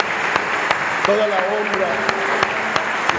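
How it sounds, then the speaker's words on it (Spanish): Applause for Jesus Christ in a church service, an even patter of clapping running under someone speaking. "aplauso al Señor Jesucristo"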